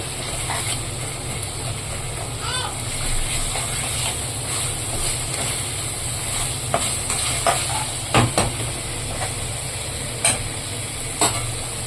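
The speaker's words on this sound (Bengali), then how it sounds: "মশলাটা আমার এখন ভালোভাবে কষিয়ে নিতে হবে এই যে বাটারটা গলে যাবে" Chicken masala with melting butter fries in a pan, a continuous close sizzle and hiss broken by scraping and clinking stirring strokes, with no talk.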